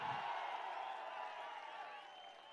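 A crowd at a TDP public rally in Kavali town, Nellore district, applauds and cheers in a steady, dense wash of sound that holds throughout, fairly distant and quiet.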